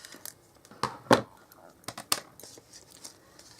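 Several sharp, crisp snips and crinkles of paper being cut, spaced irregularly and close up against a quiet background.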